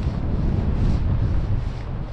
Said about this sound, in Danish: vinden er latterlig